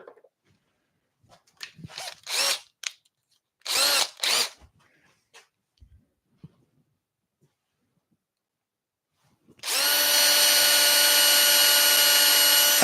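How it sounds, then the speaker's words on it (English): A power drill bores holes in wood for a Christmas snowman, several short whirring bursts up front, a pause, then a long steady whine of the motor running alone at close range. "just to clean up those holes we've just drilled"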